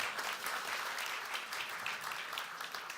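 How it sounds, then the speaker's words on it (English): A conference audience at a fintech event in Vilnius gives a round of applause, a quiet, distant, continuous patter of many hands clapping for a few seconds. "Can we have a round of applause for this occasion?"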